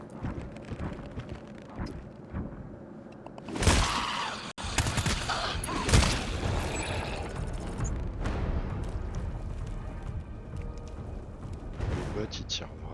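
Gunfire from a bot in the video game GTFO comes as loud bursts and crackling shots under steady rumbling game noise, while players talk over it.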